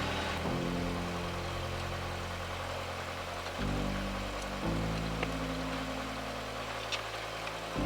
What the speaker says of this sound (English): maybe we can get some engine plane noise